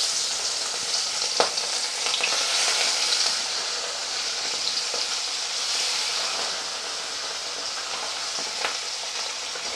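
Fish frying in hot, smoking oil in a wok gives a loud, continuous sizzle with crackling and occasional sharp pops, close up and steady throughout with no talk.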